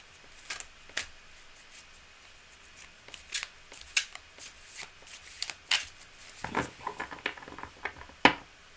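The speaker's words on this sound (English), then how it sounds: "Last minute bulk shuffle, just so like I get into the groove" A deck of tarot cards is shuffled in quick, crisp riffling bursts and soft slaps that come in uneven clusters, recorded close and alone with no talking.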